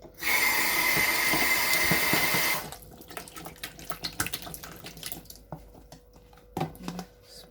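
Kitchen tap water pours hard into a container of cut potatoes for a second rinse, a loud steady rush lasting over two seconds, followed by splashing, knocks and shuffling as the potatoes are swirled.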